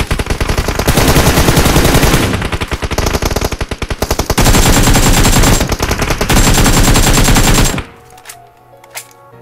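Video game gunfire in long, loud, rapid automatic bursts with brief gaps between them, close and dominant, ending in quieter scattered sounds.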